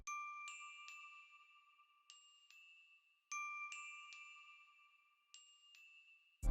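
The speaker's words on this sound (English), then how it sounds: "I ended up using this bell right here" Clear bell tones ring in a repeating pattern in a dark ambient music loop, bright dings struck in pairs and left to decay, with a short burst of noise at the very end.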